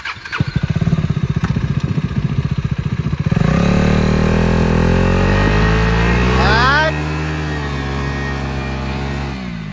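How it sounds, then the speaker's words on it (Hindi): A motorcycle engine idles with a fast, throbbing pulse, then revs hard and holds a loud, high whine during a rear wheel spin, dropping back toward the end; voices can be heard under the engine. "ब्रेक फुल टाइट खड़े रहना क्योंकि पीछे वेट रहेगा ना तो व्हील स्पिन नहीं होगी"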